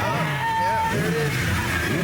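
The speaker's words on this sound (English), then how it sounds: "The first burnout of the night, boys." A supercar does a burnout at a night car meet, its revving engine and screeching tires roaring loudly and steadily over crowd chatter and shouting voices.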